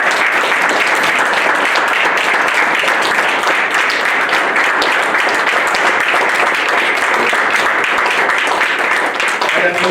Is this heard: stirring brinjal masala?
no